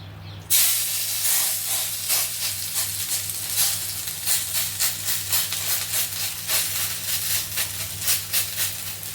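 Breakfast patties shaped by hand and laid directly on a hot tava hit with a sudden loud sizzle, then settle into a steady, pulsing frying hiss.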